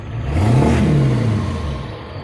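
A Ford 7.3 Powerstroke diesel engine revs up sharply under a quick throttle blip, then its deep pitch sweeps back down as it settles. The sound is loud and close, with steady low rumble throughout and no talking.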